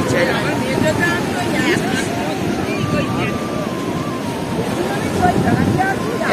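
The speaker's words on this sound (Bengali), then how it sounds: "দেখো না বর্ষার ঢেউ কত বড় বড়" Large monsoon waves breaking on a sea beach at dawn, a loud continuous roar and wash of surf with wind buffeting the microphone, while people talk nearby.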